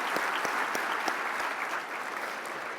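An audience at a sponsored breakfast gathering gives a round of applause, continuous dense clapping with a few sharper individual claps standing out, heard on its own without speech.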